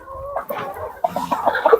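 Andijan black chickens, a mixed flock of roosters and hens, clucking close by in short irregular bursts that grow busier toward the end, with no talk.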